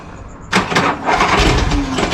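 Harley-Davidson Shovelhead engine cranks and fires after a quiet moment, bursting into a loud, rough, uneven idle up close that keeps running unsteadily.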